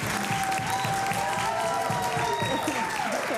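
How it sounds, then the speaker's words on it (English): Applause from the gallery during a House of Assembly session, steady dense clapping throughout with voices and crowd noise underneath. "I'm just going to ask that there be no clapping, hollering, or anything from the gallery"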